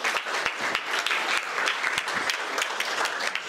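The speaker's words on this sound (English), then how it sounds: "let's give Kacie another round of applause" An audience claps steadily, a dense patter of many hands at moderate loudness, with a faint voice mixed underneath.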